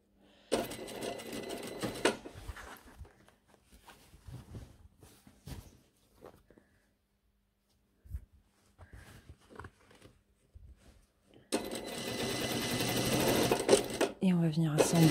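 A sewing machine stitches a blazer seam in bursts, a loud fast mechanical whir at the start and again at the end, with quieter handling noises and someone talking in French between runs.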